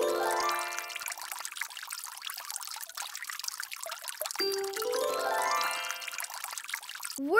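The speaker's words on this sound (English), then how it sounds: "Today I'm watering the plants." Water pouring and trickling from a watering can onto plants in a cartoon classroom scene, two bright splashing pours with a steady dribble between them.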